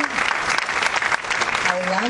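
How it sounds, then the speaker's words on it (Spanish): Loud, dense applause from the audience at a choir workshop, steady throughout the short burst, with voices and a few cheers mixed into the clapping. "Y un aplauso fuerte para Alondra Azul."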